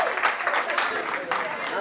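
Audience clapping at a political campaign launch meeting, a brief dense patter of applause from a crowd, with voices talking over it.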